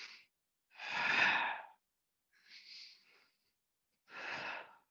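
Deep, audible breathing during a yoga exercise: four slow breaths, long whooshing inhales and exhales close to the microphone, with near silence between them.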